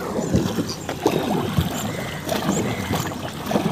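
A wooden fishing boat is rowed forward on murky backwater in Kuttanad. Oar strokes make rhythmic splashes and dips every half second or so, up close over light wind and water noise.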